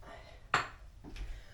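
A cooking pan is handled in a home kitchen while risotto is being prepared. There are two brief metallic clanks, the first sharper than the second, against quiet room noise.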